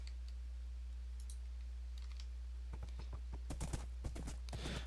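Horse hooves clip-clop in a Minecraft server game, quiet at first and then a quick run of sharp, close hoof clicks in the second half, with no one talking.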